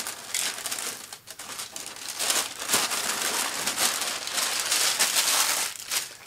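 Crinkling and rustling of plastic close up, in irregular bursts of crackle as a bag from a Yamaha RX-A2A amplifier box is handled and opened.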